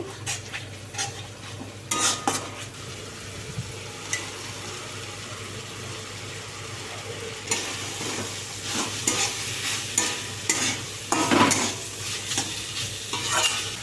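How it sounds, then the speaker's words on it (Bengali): Chicken bharta with cashew paste and melon seed paste is stirred in a pan over low heat, with a soft sizzle under repeated scraping and clinking of a spoon against the pan, nearby and without speech. "এবার একটু নেড়ে চেড়ে নেবো"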